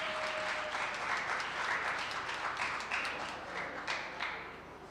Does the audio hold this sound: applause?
yes